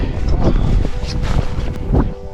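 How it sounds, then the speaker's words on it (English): Strong gusting wind buffets the microphone with loud low rumbling, steady throughout with a few surges. "It's a bit windy"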